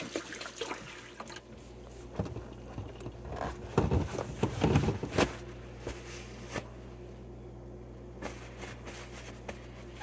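A tap runs while someone washes their hands at a home sink, water trickling and pattering steadily with a few louder splashes midway, with no talk.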